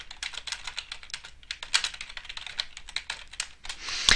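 Steady typing on a computer keyboard while entering a drafter's name into an AutoCAD drawing attribute, close and continuous rapid key taps with brief pauses and a louder flurry at the end.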